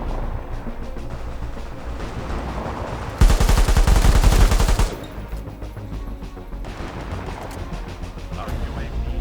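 Rapid automatic gunfire bursts out in the World War 3 video game, a loud dense volley lasting under two seconds, set against a constant background of game ambience and rumble.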